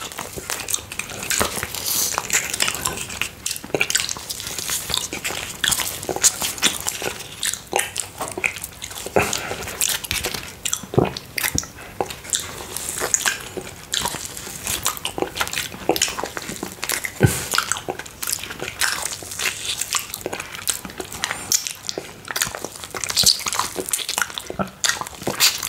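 Someone bites and chews a matcha chocolate cupcake topped with cream cheese, close and steady, with soft wet squishes and smacking mouth sounds that continue without a break.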